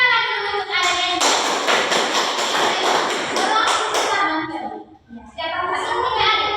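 A group of children clap together in a classroom, a dense patter of many hands lasting a few seconds, close and loud, with a voice audible near the end.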